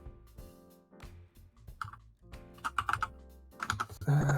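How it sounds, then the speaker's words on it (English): Quick clattering keystrokes on a computer keyboard come in uneven bursts, close and fairly quiet, with a few louder clicks toward the end. "I hear you typing"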